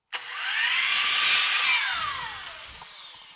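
A Ridgid chop saw spins up and bites through a 1x1 piece of wood in one loud, close cut, the whining blade rising, dipping under load, then winding down alone.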